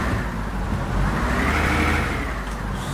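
A Fleetline or Olympian double-decker bus engine roaring in the OMSI bus simulator on a Hong Kong route, a loud, continuous deep drone that swells in the middle and holds steady.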